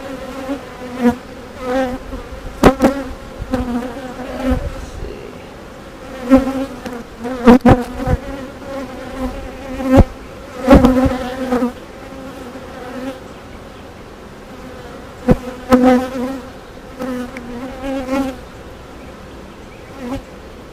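Honeybees buzz steadily around an open hive during a routine beekeeping inspection on a farm, a dense droning swarm with individual bees zipping close by now and then, loud and continuous with no talk.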